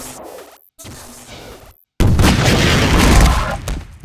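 A rocket explosion in the Half-Life 2 Deathmatch video game, a loud sudden boom that erupts after a brief silence and rumbles on heavily for about two seconds, preceded by quieter game noise.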